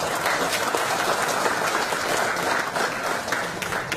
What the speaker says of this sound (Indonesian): Tepuk tangan sekali lagi beliau.